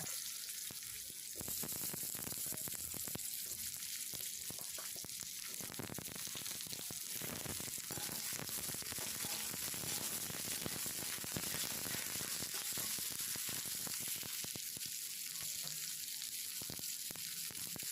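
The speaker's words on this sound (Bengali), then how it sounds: "এরপর ওই তেলের মধ্যে আমি দিয়ে দিচ্ছি কেটে রাখা আলু এবং কেটে রাখা ডাঁটা" Cut potatoes and drumstick pieces frying in hot oil in a wok, a loud dense crackling sizzle close up, with occasional stirring noises and brief quieter lulls.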